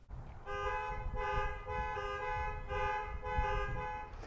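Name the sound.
car key fob panic alarm honking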